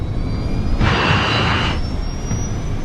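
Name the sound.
DC-8 jet airliner accelerating for takeoff, dramatized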